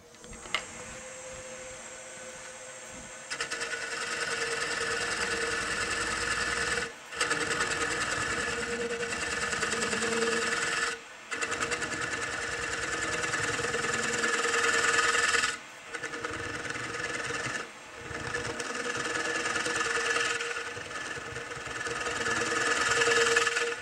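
A wood lathe spins a bowl blank while a gouge takes a light finishing cut, giving a steady whirring hum with a scraping hiss that briefly drops out a few times as the tool lifts off.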